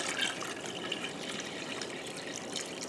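Warm water from a jar is poured into a canning pot while making yellow squash relish, giving a steady close trickle and splash that runs without pause and with no talk.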